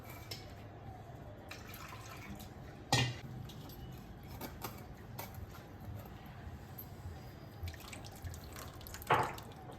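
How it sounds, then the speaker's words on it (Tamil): Tamarind pulp water squeezed into a pan for Palakkad-style aanai pachadi: soft, quiet trickling with two brief splashes a few seconds apart, heard close and with no one speaking. "அப்புறம் அதில் நம்ம புளி தண்ணி புழிஞ்சு விட்டுக்கணும்."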